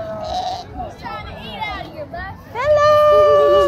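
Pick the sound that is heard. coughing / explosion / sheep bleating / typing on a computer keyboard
sheep bleating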